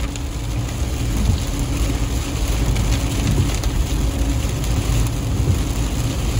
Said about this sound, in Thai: ฝนตกไม่หยุดเลยนะครับ